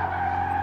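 A car drifts through a corner with its tires skidding, giving one brief, sustained screech that is loud and steady from start to end.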